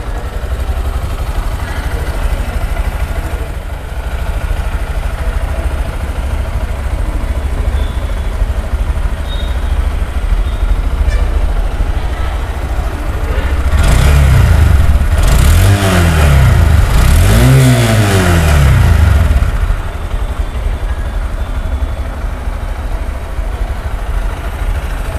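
A 2023 Honda SP125 OBD2 motorcycle sits under steady loud background noise, then its engine rises in a few close revs that climb and fall in pitch for several seconds before settling again.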